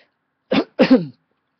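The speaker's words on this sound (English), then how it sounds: "Excuse the cough." A single person gives a short two-part cough, close and dry, with silence before and after.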